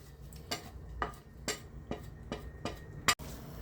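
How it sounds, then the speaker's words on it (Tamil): Potato samosa masala with chopped coriander and mint is stirred in a pan, making a series of soft, evenly spaced scraping ticks of a utensil against the metal, quiet and close, with a sharper clink near the end. "இதையும் போட்டு கிண்டி வச்சுக்க வேண்டியதாங்க"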